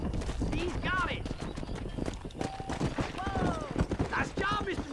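Horse hooves clip-clopping at a gallop while herding cows in the video game Red Dead Redemption, a steady rhythmic beat under frequent overlapping talk and shouted calls.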